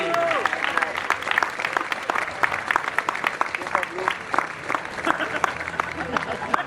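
A trackside crowd at a karting championship at Pista Azzurra applauds a podium driver, the clapping loud at first and thinning to scattered individual claps, with an announcer's voice briefly over the start.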